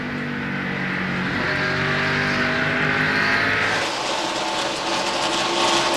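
Stock cars in a 2001 NASCAR Busch Series race roar loudly around the track, engines droning continuously with shifting pitch as cars pass close, a steady wall of engine noise with no talk.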